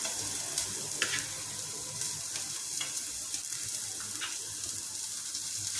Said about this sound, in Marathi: तो पण थोडा लाल होईस्तोपर्यंत आपण कांदा भाजून घेऊयात चांगला